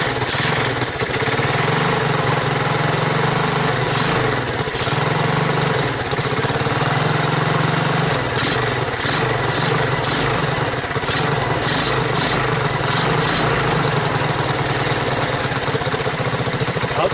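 Honda ATC 200 three-wheeler engine running loud and steady just after starting, a continuous close rattling drone with no talking over it.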